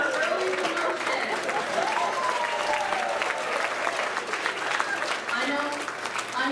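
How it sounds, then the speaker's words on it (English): An audience at an officer candidate school billet night applauds an early promotion, with sustained, full clapping and scattered cheering voices throughout. "Round of applause for Super Chief on her early promotion."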